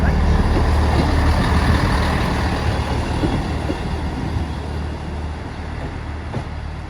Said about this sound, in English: Here's a 158 coming in behind me, you see.